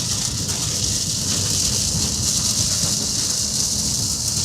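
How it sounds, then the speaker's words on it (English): Steady, loud rain drums on a moving storm-chase vehicle on the Southern Plains near the Texas-Oklahoma border, a dense unbroken hiss with low rumbling underneath and no talk. "That's a little bit of rain, guys."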